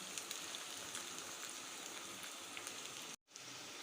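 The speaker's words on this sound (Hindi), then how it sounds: "अब हम भिंडियों को फ्राई कर रहे हैं।" Okra (bhindi) frying in oil in a pan, a steady, faint, even crackling sizzle that runs throughout with a brief cut near the end.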